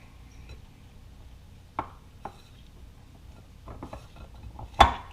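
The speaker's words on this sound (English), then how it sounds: "Notice I'm scraping the sides with my whisk to make sure I get all the flour mixed in." Whisk scraping and clinking against the sides of a bowl while flour is mixed into krumkake batter: soft scraping with a few sharp taps and clinks at irregular moments, close and quiet, with no talking.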